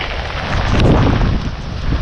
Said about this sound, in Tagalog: medyo malakas nga yung ulan at hangin